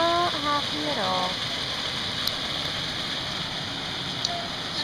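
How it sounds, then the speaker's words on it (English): Heavy rain pours in a dense, steady hiss that lasts throughout, with a brief voice at the very start. "It's raining so hard."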